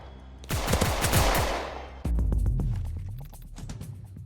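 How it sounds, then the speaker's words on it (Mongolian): Rapid automatic gunfire in a video game, two loud sustained bursts of shots with a short break between them, with no talking over them. "Энэ буу яас их тарж байна."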